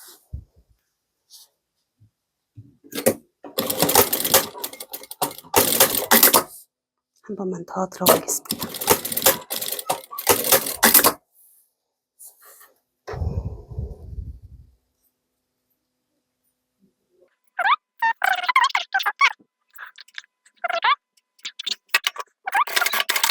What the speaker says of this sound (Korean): 여기다가 마찬가지로 얘도 안쪽에 조금 보일락말락 하게 한 다음에 박음질 들어갈게요.